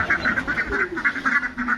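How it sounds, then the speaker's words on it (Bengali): Ducks playing at the edge of a pond in the morning quack in a quick, repeated series, nasal and fairly close, with a faint outdoor background. "পিছনে হাঁসগুলো খেলা করছে"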